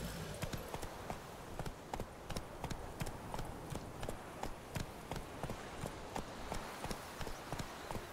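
Roach, a horse in The Witcher 3, gallops at a steady clip-clop pace, hoofbeats landing in a fast regular rhythm close by over a rumbling ambient bed.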